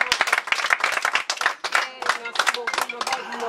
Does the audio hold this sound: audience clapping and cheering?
yes